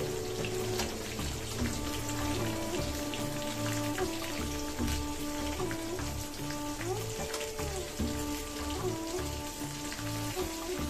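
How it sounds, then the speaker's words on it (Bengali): Tomatoes frying and being stirred in a pan with browned onions, a steady close sizzle with rain-like spatter and scraping under an ongoing tonal background hum. "টমেটো দেওয়া হয়ে গেছে, একটু নেড়ে নিই।"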